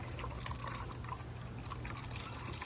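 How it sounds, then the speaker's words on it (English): Old brake fluid from a Porsche Macan GTS brake bleed is poured into a plastic water bottle, giving a faint, continuous trickle over a low background hum. "we're gonna empty this old brake fluid into an old water bottle."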